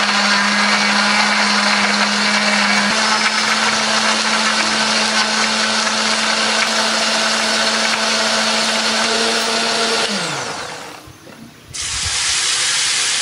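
A blender grinds soto spices such as ginger, candlenut, shallots and garlic with a little water, a steady loud whirring drone that runs continuously, then stops abruptly before a brief restart.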